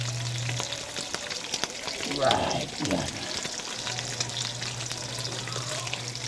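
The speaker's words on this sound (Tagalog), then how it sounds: "Sasangkutso muna natin mga kabatang nagpipito-prito para masarap yung ating adobong maskara ng baboy" Steady frying sizzle of pork in hot oil over a wood fire, close up and continuous, with brief stirring noises and a short spoken remark over it.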